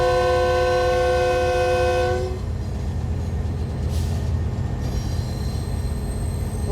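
A train rolls along the old colonial-era Lobito Corridor railway, loud and close, with a high wheel squeal or horn-like tonal whine that cuts off after two seconds, leaving heavy low rumble and rattle of wagons.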